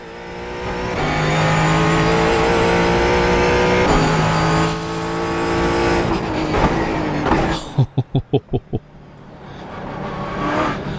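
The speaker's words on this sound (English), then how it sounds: "there is no mistaking this 5-litre V8" A GT4 race car's 5-litre V8 in iRacing roars loud and close, holding steady revs before dropping and climbing again, then a rapid series of sharp downshift blips and pops before accelerating once more.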